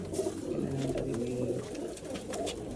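A flock of loft pigeons keeps up a dense, continuous cooing, the overlapping calls close and steady throughout with no talking.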